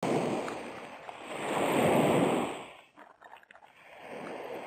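Stormy sea waves surge and wash in broad swells, with a brief lull before the rushing water builds again, mixed with wind.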